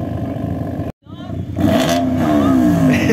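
A Mitsubishi Lancer Evolution X revs loudly at close range after a brief cut, the engine note climbing and wavering in a rising whine, with voices around it.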